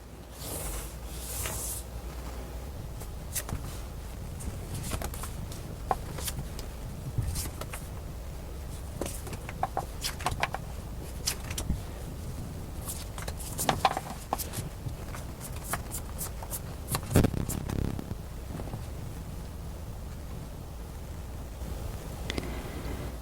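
Tarot cards being shuffled and drawn during a reading, a long run of soft papery riffles, flicks and card slaps at close range, steady throughout with occasional louder snaps and no talking.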